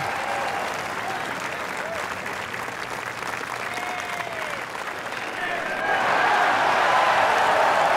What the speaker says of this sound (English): Take out for the cheering crowd.